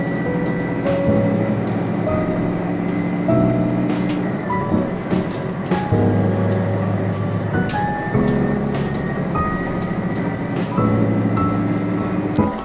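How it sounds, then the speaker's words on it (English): A Watarase Keikoku Railway train pulls into Nakano Station on its rural line, with a loud, continuous rumble and mechanical hum, periodic clacks and brief tonal squeals as it slows, with no voices. "the train arrived at Nakano Station"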